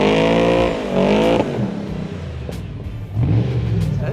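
A drifting car at the SEMA show revs hard nearby, its engine climbing and falling in loud surges with a whirring, strained tone between bursts.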